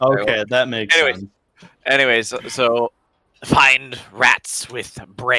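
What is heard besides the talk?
No everyday noise stands out behind the speech.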